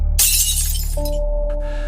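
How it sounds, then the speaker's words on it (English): A wall clock smashed against a floor, its glass face shattering in one loud burst of bright crashing shards that fade into tinkling debris, with a low droning tone beneath. "He stormed toward the wall clock, ripped it down with all his strength, and smashed it against the floor."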